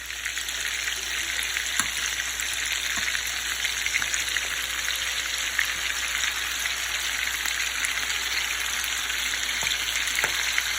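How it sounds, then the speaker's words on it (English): Meatballs frying in hot oil, a dense, even, continuous crackling sizzle heard up close for the whole stretch, with occasional louder pops and no voices. "It's starting to get hot, and I will fry them."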